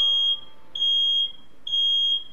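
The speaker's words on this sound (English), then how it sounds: "we set off the smoke alarm." A household smoke alarm sounds three loud, piercing beeps in a steady on-off pattern, each tone lasting about half a second with short gaps between.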